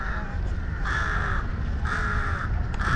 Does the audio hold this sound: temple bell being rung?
no